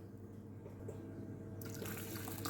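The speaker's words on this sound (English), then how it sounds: "now I'm going to put 4 of these cups of water in" Water is poured from a cup into a Macook rice cooker holding rice for vegetable pilau, a soft steady trickle and fill that brightens into a splashier pour near the end, quiet and close.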